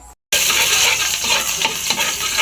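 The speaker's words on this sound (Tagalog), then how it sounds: "magigisa na tayo dito ng sibuyas at bawang" Onion and garlic sizzle and crackle steadily in a hot oiled pan for a pork adobo with chicken liver, a loud continuous frying hiss after a brief silent gap at the start.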